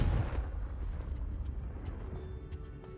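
A Confringo fire spell in Hogwarts Legacy erupts into a heavy, rumbling explosion, loud at the start and fading into a sustained roar with faint crackles.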